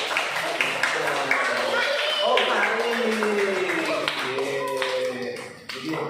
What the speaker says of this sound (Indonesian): Tepuk tangan untuk Eja